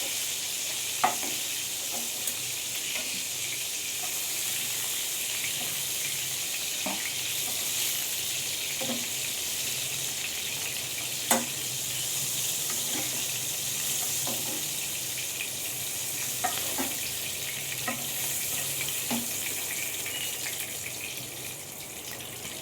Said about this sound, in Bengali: এবার আমি বাকি মাংসগুলো একইভাবে হালকা করে ভেজে নেব।